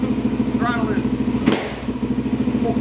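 A Suzuki DRZ400SM motorcycle with a Lectron carburetor idling close by, an even rapid thumping pulse with a brief clatter midway and a voice briefly over it.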